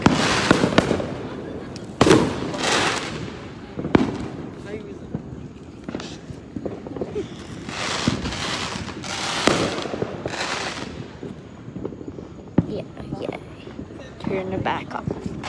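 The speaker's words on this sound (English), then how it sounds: "Yeah, we have some fireworks." Fireworks go off outside a house at night, a string of sharp bangs and crackles with hissing bursts spread irregularly over about fifteen seconds, some near and some farther away, while people talk in the background.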